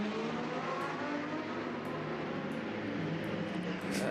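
Porsche GT race car at the Barcelona circuit, a steady sustained engine drone at moderate distance, continuous throughout with slight swells near the end and no talk over it.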